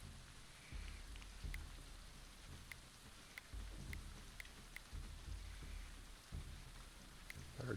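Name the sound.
rain in the video game Going Medieval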